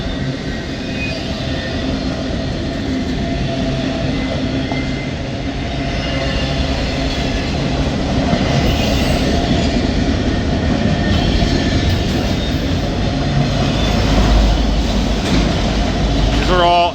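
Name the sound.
freight train passing with new autorack cars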